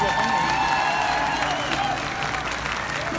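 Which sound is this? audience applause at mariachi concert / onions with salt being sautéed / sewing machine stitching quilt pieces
audience applause at mariachi concert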